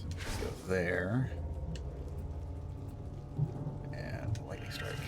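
A Lightning Strike attack in the black-and-white tactical game Othercide brings a crackling thunder rumble with rain-like hiss. A few faint impacts follow, all at a low level.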